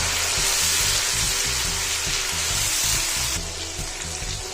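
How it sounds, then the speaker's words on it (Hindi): Grated paste of three medium tomatoes hits a hot pan for an aloo matar curry, giving a steady, loud, close sizzle and frying hiss that eases slightly near the end, with no voices. "अब इसमें डाल देंगे हम लोग 3 अदद मीडियम साइज़ के टमाटर का पेस्ट।"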